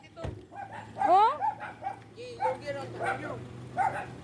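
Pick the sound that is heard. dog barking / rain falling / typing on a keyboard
dog barking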